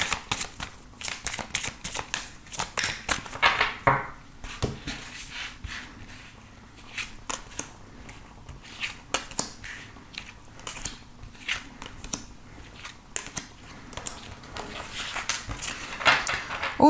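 Tarot cards are shuffled and drawn by hand up close, a long run of crisp riffling flutters, slaps and soft card snaps in irregular bursts with quiet pauses, no voices.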